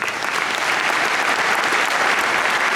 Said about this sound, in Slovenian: aplavz predvsem vam